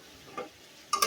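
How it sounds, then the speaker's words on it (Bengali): Bitter gourd (karela) fries uncovered in a pan, a faint sizzle broken by two short scraping stirs, one light and a louder one at the end. "এটা ভাজা ভাজা করবো করলা ভাজিটা"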